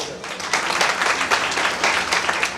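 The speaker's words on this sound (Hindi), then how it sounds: "ये ताली मत बजाओ" Applause from an audience at a political speech, a dense burst of many hands clapping, loud and continuous for a couple of seconds with no voice over it.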